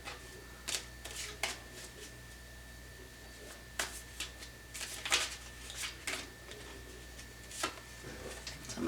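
Tarot cards being shuffled by hand, a series of soft riffling bursts scattered through the stretch at moderate, close-up level, with quiet gaps between them and a faint steady hum underneath.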